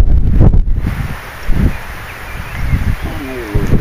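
Gusty wind buffets the microphone on a riverbank while bank fishing for catfish and perch, a steady low rumble with a few stronger bursts throughout, and faint rustling underneath.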